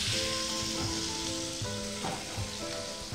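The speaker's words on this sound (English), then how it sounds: "You have to be very careful when you are frying the skewers." Stuffed squid skewers held with toothpicks fry in a pan in a Goan kitchen, giving a loud, continuous sizzle and crackle with occasional sputters.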